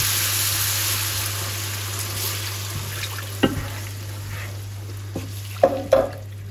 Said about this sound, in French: Et on va déglacer avec un peu d'eau.